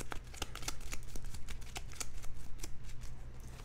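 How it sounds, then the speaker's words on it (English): Cards from the Primal: The Awakening board game are shuffled by hand in a quick, continuous run of crisp riffling snaps, close and clear with no talking. "Shuffle these up."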